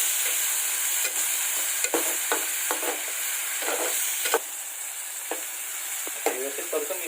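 Prawn masala frying in a pan with garlic, onion, tomato and salt, a steady close sizzle broken by a few sharp stirring scrapes and clacks throughout.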